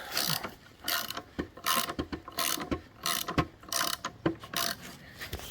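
Repeated mechanical clunks and grinding ratchets as a clutch is forced along a shaft by a press tool, in uneven bursts close by.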